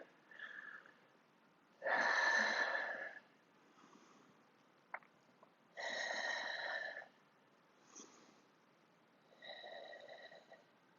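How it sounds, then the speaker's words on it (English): During a chair yoga pose, a person takes slow audible breaths, about four separate inhales and exhales with quiet pauses between them, close and soft with a slightly nasal, sniffing edge. "And take a couple breaths here."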